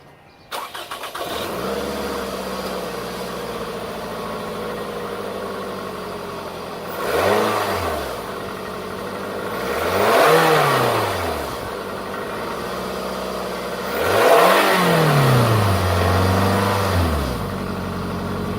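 2004 Toyota Camry engine fitted with an eBay cold air intake cranks and starts, then settles into a steady idle broken by three rising and falling revs, loud and close with no talking.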